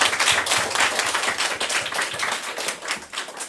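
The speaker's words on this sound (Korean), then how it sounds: "박수로 본 수업을 모두 마무리하도록 하겠습니다." A class audience claps together in sustained, dense applause, many hands at once, steady and fairly loud throughout.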